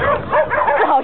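A young puppy gives quick, high yips and small whimpering cries, close and fairly loud in a short burst.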